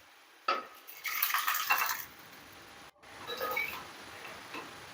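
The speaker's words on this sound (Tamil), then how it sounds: "இந்த குழம்பு எடுத்து இதிலே ஊற்றிக்கலாங்க." Tamarind gravy for a cowpea and bottle gourd kulambu is poured into a cooking pot, making a close, brief burst of splashing and clinking of metal cookware, followed by a quieter second stretch of pot noise.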